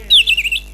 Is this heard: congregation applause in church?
no